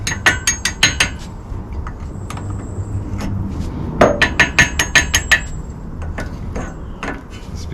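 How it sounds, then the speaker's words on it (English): Brake caliper pin and clips being worked out on a Toyota Supra, with bursts of rapid, bright metallic taps and clinks in two clusters and quieter handling noise between them, and no one speaking. "So we're going to remove the pin and then the clips and then slide these brake pads out and put them back in."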